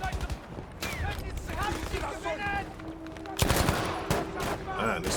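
Weapons fire in Battlefield V, rapid shots and bursts under a cluttered game mix, with someone talking over it and a louder burst near the end.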